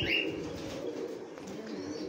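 Pigeons at a farm coo softly in the background, with a brief chirp and faint wing flutter near the start, and no one speaking.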